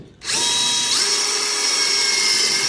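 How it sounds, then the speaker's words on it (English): A power drill whirs up after a brief pause and keeps running at a steady, high-pitched whine as it bores through knotty wood, with no talking. "Now watch how much harder it is when I drill through this."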